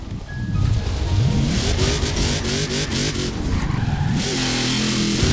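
A Mercedes in Forza Horizon 4 accelerates hard, its engine note climbing through several gear changes with repeated rises and drops in pitch, loud and close with faint tyre noise and no talking.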